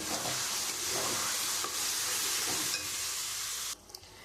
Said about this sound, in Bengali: দিয়ে আমি মশলাটা একটুখানি কষিয়ে নেব